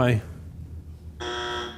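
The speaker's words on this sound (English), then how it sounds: "That is this is a Family Feud buzzer." A Family Feud game show buzzer sounds as a harsh, steady electronic buzz for about half a second at the end, after a brief burst of talk and a quiet pause.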